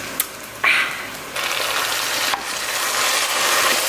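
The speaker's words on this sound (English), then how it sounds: "So I'm adding some red wine to the pan." Red wine is poured into a hot pan of mushrooms and loud hissing sizzle bursts up as the liquid hits, with a sharp initial splash followed by steady frying and stirring close by.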